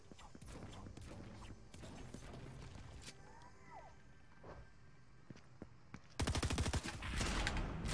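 Gunfire in the video game Fortnite: scattered single shots and clicks early on, then a dense, loud burst of rapid automatic fire near the end.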